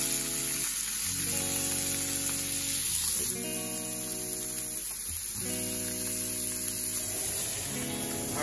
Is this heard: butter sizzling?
yes